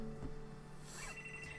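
A phone rings in the haunted-school game The Last Door, its sustained bell tones clear at moderate volume along with a few brief soft background noises.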